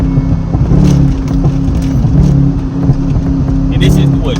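A Chevrolet Camaro SS with headers and a crackle-and-pop tune is driven: a close, steady, rumbling exhaust drone with a few sharp pops near the end, and someone talks over it throughout.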